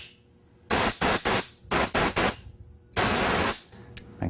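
Compressed air blasts off an H2O jet intensifier part in three groups of sharp hissing bursts, close and loud, with quiet pauses between them.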